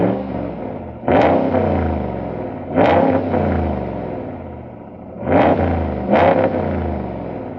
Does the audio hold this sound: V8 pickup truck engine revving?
yes